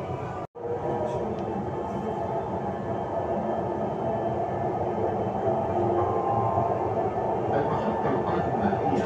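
Dubai Metro Green Line train running between stations, a steady loud interior rumble and rail roar that holds for the whole stretch, with a brief dropout near the start and faint chatter beneath.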